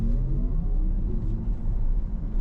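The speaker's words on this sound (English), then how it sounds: "Motors sound good under full load." Low, steady electric motor hum and road rumble from a Porsche Macan EV accelerating hard under full load, heard from inside the car, smooth and fairly soft.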